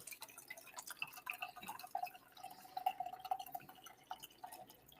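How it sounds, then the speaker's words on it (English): A cocktail is poured into a glass at a table, with light, close dripping and trickling of liquid in an uneven patter, fairly quiet and without speech. "Give it a nice little pour"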